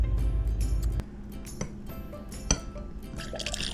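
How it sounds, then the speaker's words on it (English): Fresh beer pours from a corny keg with a CO2 bottle in a fridge, a close, steady liquid gush that ends after about a second, followed by soft dripping, fizzing and faint glassy clinks. "That's the sound of fresh beer."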